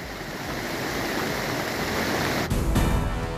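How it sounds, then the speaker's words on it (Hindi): Swollen river in Rajouri, Kashmir, rushing after heavy rain, a dense, continuous roar of churning water, loud and close, with no pauses. "राजौरी में उफान पर नदी नाली,"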